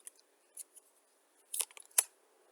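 A deck of tarot cards is shuffled by hand: a few soft, scattered flicks, then two sharp, papery riffle bursts close by in a quiet room, with no talking.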